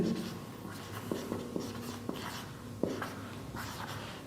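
A pen scratching out a physics equation about a point charge, soft strokes and taps against the writing surface, close but quiet under low room noise.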